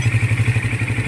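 Motorcycle engine running smoothly at idle after a piston and piston ring replacement, a close, steady rhythmic putter with no knocking, heard briefly and alone.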